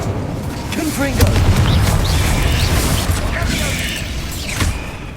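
A Confringo fire spell bursts in the Hogwarts Legacy video game, a loud rumbling blast with a booming low end and crackling debris that holds steady, mixed with other game effects and a voice.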